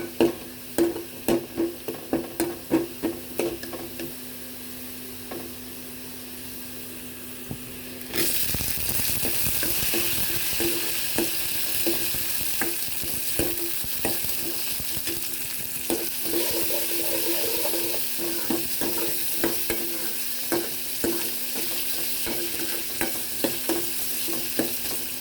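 Onions and tomatoes sautéing in a pan for a red ponnanganni keerai kootu, a constant close sizzle with repeated scraping and clacking of a spatula, growing brighter and louder partway through as the tomatoes go in, no voices.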